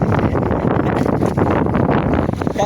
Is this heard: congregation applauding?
no